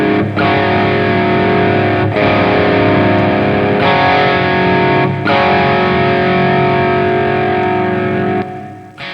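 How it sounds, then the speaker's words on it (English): An electric guitar plays through a Distortion Plus pedal model in STL AmpHub amp software, loud and heavily saturated, with sustained distorted chords broken by a few brief pauses and no talking. "Then it's the Distortion Plus."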